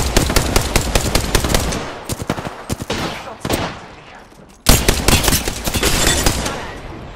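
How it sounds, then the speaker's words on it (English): Rapid automatic gunfire from the shooter game Apex Legends rattles in loud, close bursts, with a short pause before another sustained volley, and brief in-game voice lines beneath it. "I am taking fire, friend"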